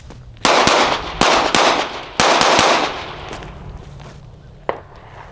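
Gunshots from an M&P 2.0 Metal pistol during close-quarters drills: several sharp, loud reports in quick clusters of two or three, close by with echoing tails, then a lone fainter shot near the end.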